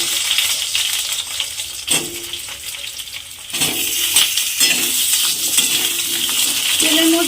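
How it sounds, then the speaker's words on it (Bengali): Potato pieces dropped into hot oil for frying, cut into medium chunks, giving a steady broadband sizzle with clattering stirs and pan knocks throughout, louder after the pieces go in. "তেলের মধ্যে আলুগুলো দিয়ে দিলাম,"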